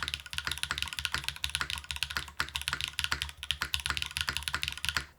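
Rapid typing on a Wing60 mechanical keyboard, close and crisp, with a steady stream of clacking keystrokes and occasional deeper, woody spacebar hits.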